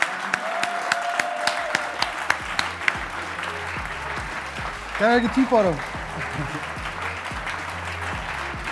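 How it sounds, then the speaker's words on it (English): Ongoing crowd applause for a hackathon team on stage at a solution-day event, steady clapping across the whole span while a presenter speaks over it and a brief burst of voices rises midway. "So this applause for you"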